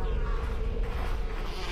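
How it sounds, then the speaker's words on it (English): Constant insect-like buzzing from inside the Gorilla Tag video game, a dense droning hum that stays loud and steady throughout with a low rumble beneath, close and without speech. "I hear the buzzing, bro"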